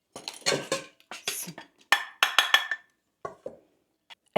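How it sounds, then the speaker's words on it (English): Ceramic dishes clink and clatter close by as a bowl is pulled from a stack, a burst of sharp knocks and rattles followed by a few lighter taps in a quiet kitchen. "Okay, so I need to get a bowl for that."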